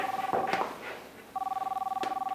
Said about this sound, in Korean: 우리 선미가 웬일로 엄마한테 전화를 했어요?